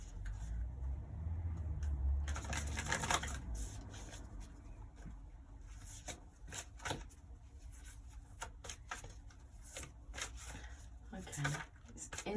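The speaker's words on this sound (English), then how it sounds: "Let's give them a good shuffle first" A deck of cards is shuffled several times, giving short papery riffles and flutters that start with a dense burst and then come as scattered quick snaps, close and moderately loud over a low background hum.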